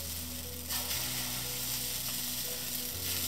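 Wheat flour and cucumber dosa batter sizzles on a hot pan, giving a steady, moderately loud hiss with a faint low hum behind it and no voices over it.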